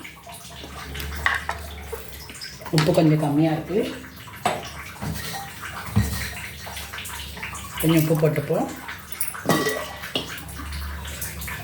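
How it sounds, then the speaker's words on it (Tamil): A pot of mango rasam bubbles and simmers steadily on the stove while a person talks nearby, with occasional clinks of a utensil. "இந்த மாங்காய் ரசம் நல்லா கொதிக்குது."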